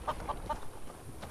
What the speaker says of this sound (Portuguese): Fala aí, galinha, tudo bem?